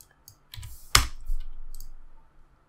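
A few quiet clicks of keys typed on a computer keyboard, with one sharper tap, close and isolated in a quiet room.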